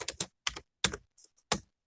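A handful of distinct keystrokes on a computer keyboard, close and crisp, tapped in quick irregular clusters with short pauses between them and no voice.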